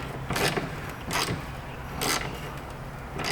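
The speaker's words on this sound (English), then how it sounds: "We can actually use the socket now" A socket wrench ratchets on a bolt at the filler neck of a 2019 Kia Optima, three short bursts of clicking about a second apart, fairly quiet and close, with no speech.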